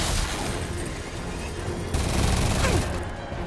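Stolen weapons fired in the Marvel's Spider-Man video game, a dense, steady barrage of gunfire with a sudden louder burst midway. Faint voices can be heard under the shooting.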